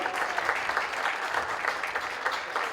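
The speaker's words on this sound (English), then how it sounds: "another round of applause" Steady applause from a crowd at a polo match, dense clapping sustained throughout at a moderate distance with no voices over it.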